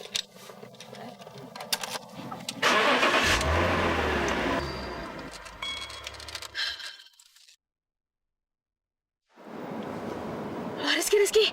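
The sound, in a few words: sports car engine being started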